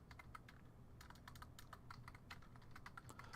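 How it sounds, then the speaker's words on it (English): Rapid, uneven clacking of fingers typing on a computer keyboard, sharp keystrokes in quick irregular bursts over a quiet room hum, with no talking. "Don't you guys like the sound of hitting keyboards while I'm in chat?"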